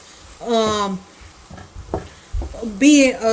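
Tomatoes and spices cooking in a pan for an Indian tomato egg drop curry, giving a faint sizzle beneath someone speaking close by.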